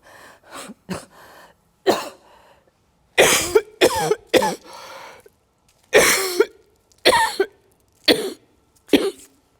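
A person coughs hard again and again in harsh, wet fits. Some coughs come in quick clusters, with throat-clearing hacks that suggest spitting. Each burst is loud and close, with silent gaps between them.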